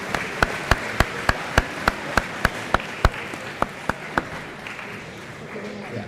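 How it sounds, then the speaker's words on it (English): At a university athletic awards banquet, one pair of hands claps close by in a slow, even beat of about fourteen sharp claps, set against a softer background of room murmur and scattered applause. "let's give a big round of applause to Chartwells for the fantastic meal and conference services."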